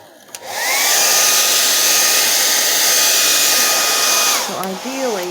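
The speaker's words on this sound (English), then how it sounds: "Okay, so I'm going to blow it. My hairdryer's not reaching very good." A hair dryer blows across acrylic pour paint with a loud, steady whooshing roar and a thin whine for about four seconds, then switches off, followed by a brief voice.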